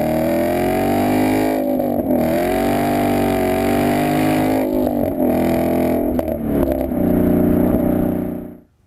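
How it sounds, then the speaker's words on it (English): A 2015 Ford Mustang GT with a Ford Performance by Borla cat-back quad-tip exhaust roars at wide open throttle, heard loud from inside the car, its engine note rising and surging steadily before cutting off abruptly. "it sounds killer, wide open throttle, and it's loud inside the car"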